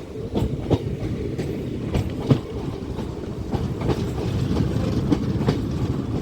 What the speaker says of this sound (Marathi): आपली ट्रेन जी आहे ती लूप लाईनवरून आता मेन लाईनवरती येत आहे